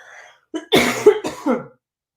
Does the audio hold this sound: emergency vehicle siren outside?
no